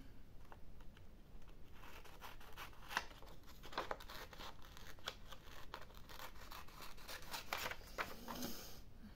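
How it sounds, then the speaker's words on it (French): Scissors snip through paper during a crafting session at a table, giving a string of short, crisp clicks and rustles at close range, with no talking. "je vais couper déjà ça. J'avais les ciseaux dans la main"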